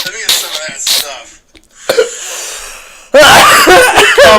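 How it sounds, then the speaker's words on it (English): Harsh, loud coughing close to the mic in several bursts, mixed with breathy laughter and a brief voice, ending in a heavy coughing fit. "Coughing to the mic."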